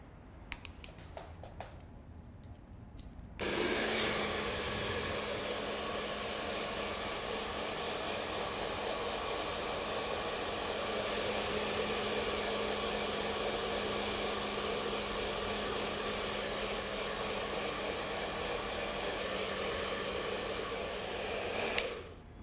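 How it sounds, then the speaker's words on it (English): A hair dryer switches on after a few seconds of quiet tapping and blows with a steady, loud whirring roar over latex aging makeup on skin, then cuts off near the end. "to speed it up, we hit it with the hairdryer."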